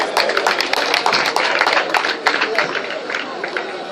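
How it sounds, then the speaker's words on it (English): Clapping from an audience at an anti-torture awareness campaign event in Port Harcourt, close, loud claps in an uneven rhythm that taper off toward the end. "A hand of applause."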